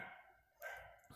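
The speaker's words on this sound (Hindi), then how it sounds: "कुत्ते भौंक रहे हैं" A few dogs bark in the background somewhere in Jammu and Kashmir, with two short, fairly loud bursts separated by a brief lull and no talk over them.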